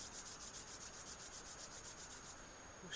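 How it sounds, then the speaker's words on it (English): Palms rub briskly against each other in quick, even back-and-forth strokes, a very quiet, close, dry swishing that stays steady and is heard alone. "We'll rub our hands again"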